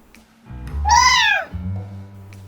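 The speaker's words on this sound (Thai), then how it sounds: "ใช้ออโต้จูนในการเออแกล้งคนนะครับ ก็ เป็นออโต้จูนในเสียงแมวนั่นเองนะครับ" A cat meow processed through an autotune voice effect in the game Virtual Droid 2, a single loud, sliding, pitch-corrected meow standing out from quiet low background hum.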